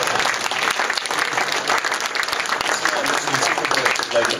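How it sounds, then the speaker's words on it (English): An audience applauds steadily for the full few seconds, dense clapping at a fairly loud, even level, with a hint of voices mixed in underneath. "if that doesn't require a round of applause"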